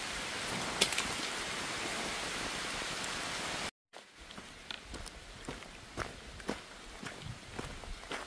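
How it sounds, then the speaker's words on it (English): Cold rain falling on a hiker along the Appalachian Trail in North Carolina, a steady patter that cuts off and then gives way to quieter, scattered drops and crunching footsteps on the trail. "these raindrops are already cold"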